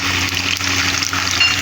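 Raisins and almonds frying in ghee in a pan: a continuous close, soft bubbling sizzle over the whole short stretch, with no speech.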